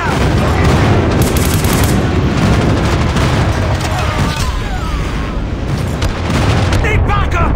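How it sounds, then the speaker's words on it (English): Airstrike explosions in Call of Duty Mobile, a dense, continuous barrage of booms and rumbling blasts filling the whole stretch, with game voice callouts over it. "Friendly airstrike incoming."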